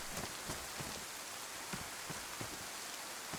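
Steady rain falls in a zombie survival video game, a dense hiss of drops with faint soft thumps mixed in, continuous and alone.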